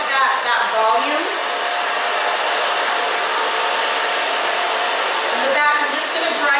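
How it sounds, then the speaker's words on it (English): A hair dryer blows steadily on short pixie-cut hair, a loud, close, continuous rushing whoosh that dips briefly near the start and again near the end as it is moved around. "Okay, now to dry. I'm going to dry up where, you know, I want that volume."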